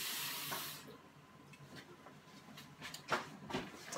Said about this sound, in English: get myself a glass of water.